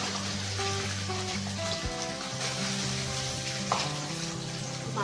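Fish sizzles in a pan, fried only halfway for a sour fish and taro dish. A steady, moderately loud frying hiss runs throughout, mixed with watery bubbling.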